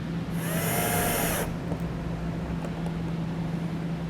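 A power drill drives a screw into the bracket of a Rear View Safety G-Series backup camera on a 2011 Chevrolet, one loud whirring burst of about a second before it stops, leaving a steady low hum.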